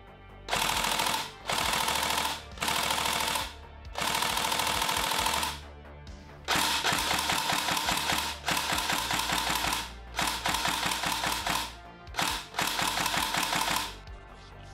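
A Tokyo Marui SCAR L recoil airsoft electric gun fires several bursts, rapid mechanical clattering with a rattling recoil mechanism, loud and close, separated by short silent pauses.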